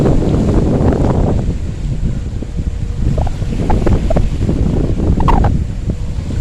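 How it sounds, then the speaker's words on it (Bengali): Sea waves wash ashore at Palawan beach on Sentosa, Singapore, with ships anchored offshore. Loud, low rumbling surf runs continuously, heavily buffeted by wind on the microphone, with no voices. "নিশ্চয়ই আপনারা সমুদ্রের কুলুকুলু ধ্বনি শুনতে পাচ্ছেন"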